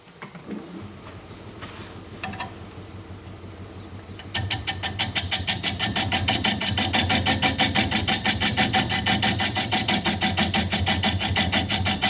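Bowl gouge cutting across the bottom of a large wooden bowl on a lathe, starting with the motor humming alone before a steady, rapidly pulsing scraping of the cut sets in and continues loudly.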